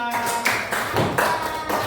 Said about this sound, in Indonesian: Tepuk tangan buat kelompoknya Naswa.